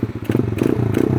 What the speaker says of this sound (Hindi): आवाज़ सुन रहे हो बाइक की